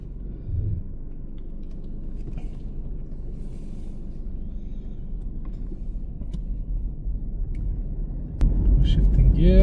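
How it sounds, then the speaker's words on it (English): An ex-police BMW G31 car engine idles just after starting, giving a steady, close low rumble that swells louder in the final second. "Car starts straight away."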